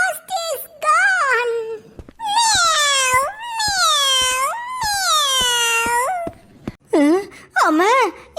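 A cat yowls and meows in long, drawn-out, wavering cries, several in a row with short breaks, loud and close, with a few shorter mews near the end.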